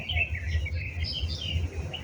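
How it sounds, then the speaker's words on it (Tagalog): Birds singing outdoors in a garden with blueberry and tomato plants, a steady chorus of high chirps and tweets running throughout at moderate distance, with a low background hum underneath and no talking. "Kumakanta ang mga ibon."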